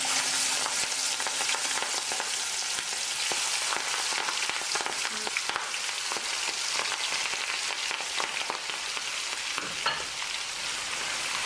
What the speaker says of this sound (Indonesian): Setelah selesai dimarinasi, kita langsung aja goreng.